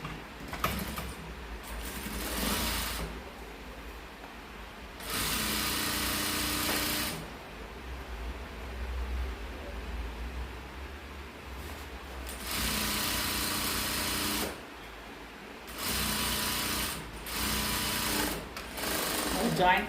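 A sewing machine stitches a gift bag in several bursts of rapid mechanical clatter lasting a couple of seconds each, close and loud, with spoken instructions in the pauses between runs.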